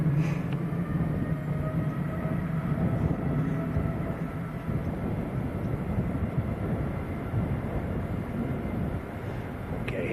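A Saudi Boeing 787 Dreamliner bound for Jeddah takes off from Manchester Airport, a sustained, heavy jet roar with low rumble holding steady throughout, heard from a distance outdoors.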